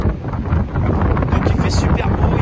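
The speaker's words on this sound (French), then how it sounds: "il fait super beau, il y a beaucoup de vent," Strong wind at sea aboard a ferry nearing the Italian coast at Brindisi, heard as loud, gusty buffeting across the microphone with a low rumble of the vessel, continuous and close.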